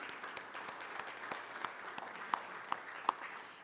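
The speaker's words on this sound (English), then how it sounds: "please give them a round of applause" Light applause from a modest group at a city council meeting, a steady patter of claps with a few sharper individual claps near the end, fairly quiet and without talking.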